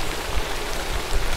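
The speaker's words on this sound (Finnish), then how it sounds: "Vettä tulee lujaa, todella lujaa." Heavy rain pours down during a gravel cycling race in Lahti, a loud, constant hiss of drops hitting the ground with occasional heavier splashes and no talk.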